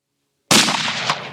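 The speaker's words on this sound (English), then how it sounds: "Then it came, a single gunshot." A single sharp gunshot cracks out of total silence, loud and close, then trails off in a brief rough echo.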